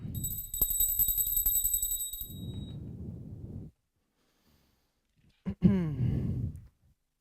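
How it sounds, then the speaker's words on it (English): A small ritual bell is rung during a morning puja, giving a few bright, shimmering strikes that ring out early, mixed with soft breathy sounds and followed by quiet. "And then placing that back down, ringing the bell."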